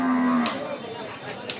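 A cow at a busy cattle market lets out one loud, close moo that fades, followed by a few brief knocks.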